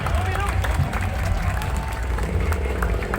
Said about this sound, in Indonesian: Tepuk tangan untuk Dusun Brangkal.